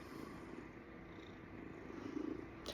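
A pet cat named Mr. Sunny Sunshine purrs softly and steadily, a low continuous rumble close to the microphone and very quiet, with no talking over it.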